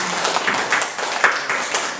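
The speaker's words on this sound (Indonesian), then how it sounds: "Tepuk tangan untuk kita semuanya." A small group claps at the close of a school teacher's presentation, a thin scattered patter of hand claps at close range with no talk.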